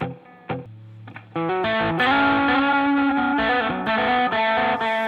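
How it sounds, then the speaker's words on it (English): Electric guitar played through a tape echo delay on a Headrush amp, with sustained chords and single notes repeating in echoed trails. Loud and close, with no talking over it. "Let's go ahead and put a delay in here. Let's just do a tape echo."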